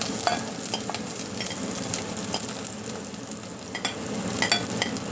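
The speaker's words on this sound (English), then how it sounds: "And we're going to saute these onions." Chopped onions sizzle and sputter in a hot pot while being sautéed for a Trinidadian-style chilli chicken, with a steady frying hiss and occasional stirring scrapes, close and continuous without talk.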